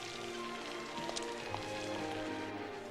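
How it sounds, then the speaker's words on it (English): Rain falls steadily outdoors near a ferry, a dense continuous patter of drops on surfaces with a few sharper drips standing out, fairly faint. "Oh, I love the rain."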